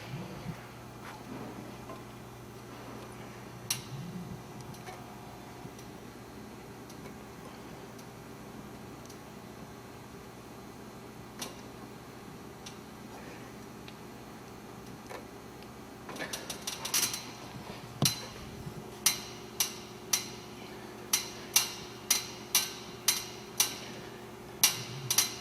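Weight stack of a gym chest machine clanking through a set of about fifteen reps, quiet at first, then sharp metallic clacks repeating at a steady rhythm and growing louder toward the end, close by over a constant background hum.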